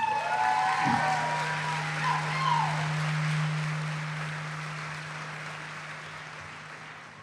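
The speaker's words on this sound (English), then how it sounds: "give them a round of applause, please" Graduation-ceremony audience applauding the school band at a high school commencement in a large hall, a steady broad clapping wash that gradually fades, with a low steady hum and some faint voices underneath.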